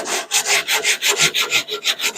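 Bondo filler being sanded flat on a dented rear quarter panel of a car, a steady run of about ten rhythmic rasping strokes, close and loud, with no talking.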